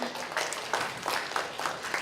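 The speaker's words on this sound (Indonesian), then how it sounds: "Tepuk tangan dong buat Cici ya." Faint, scattered applause from a student audience at an industrial engineering gathering, with some individual claps standing out, fairly distant and brief.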